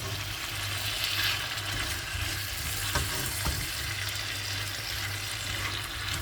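Taro stolons go into spice paste that has already been fried down and sizzle in the pan with a steady, close frying hiss, broken by a couple of faint clicks from stirring, and no one speaks.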